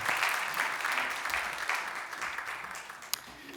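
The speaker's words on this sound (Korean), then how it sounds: "우리 모든 분들에게 우리 축복하는 우리 박수로 격려해 주시길 바랍니다" A church congregation claps together during a Sunday worship service, a sustained wash of applause that tapers off over a few seconds, with faint murmuring beneath.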